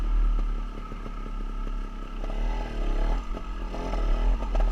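A dirt bike ridden slowly in first gear gives a low, steady engine drone with gentle rises and falls in pitch as the throttle shifts, heard close and alone.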